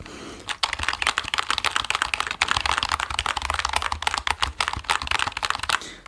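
Rapid, continuous typing clatters on a computer keyboard with LED lights, crisp close key taps in an uneven rhythm with no talk.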